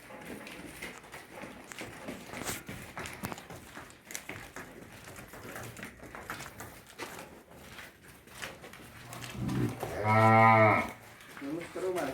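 Amid a busy, murmuring outdoor background in Kolhapur, a Khillar cow lets out one loud, drawn-out moo near the end, close by.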